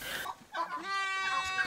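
Turkeys gobbling and calling nearby, a short burst of wavering, throaty poultry cries on a turkey farm in Togo.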